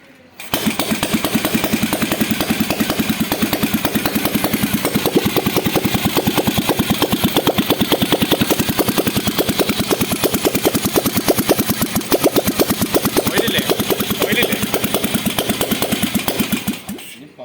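Royal Enfield Bullet 350 single-cylinder motorcycle firing up after an engine rebuild, then thumping steadily at idle up close, a loud continuous rhythmic beat that holds for about sixteen seconds before cutting off.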